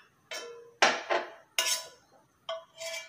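Metal utensils and a pan clink and scrape in four short, close bursts as homemade face cream is moved into a vessel, with no talking.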